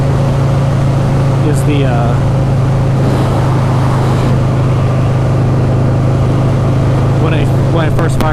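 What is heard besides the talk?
2004 Buell XB12S motorcycle engine idling roughly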